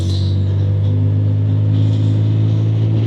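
Lexmoto motorcycle engine pulling hard as it powers around a corner, a loud steady low drone with rising revs and continuous road rumble throughout, close and alone.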